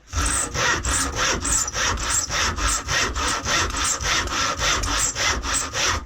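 Hand saw cutting through wood with full-length strokes, about fifteen steady rhythmic rasping push-pull strokes, loud and close, alone without talk.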